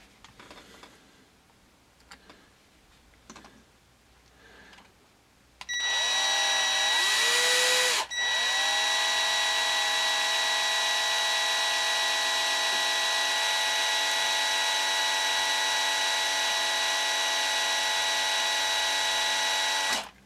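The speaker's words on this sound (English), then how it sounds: "I'm going to start out with a 1/16 drill bit, and we're gonna drill some holes here to tap out later and put screws in." A power drill with a 1/16 drill bit bores holes into a die-cast Hot Wheels toy car, opening with a few short taps. Then comes a loud, steady high whine that revs, dips briefly, and runs on continuously, close to the microphone.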